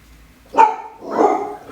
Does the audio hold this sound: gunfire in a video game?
no